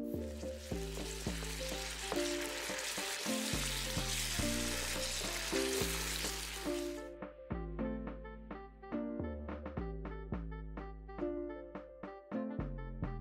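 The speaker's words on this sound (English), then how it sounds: "This is why I'm frying it on medium heat, as it would easily burn." Tomato puree and onions fry over medium heat in a pan, a dense crackling sizzle that is strong for the first half and then drops away, with stirring and background music throughout.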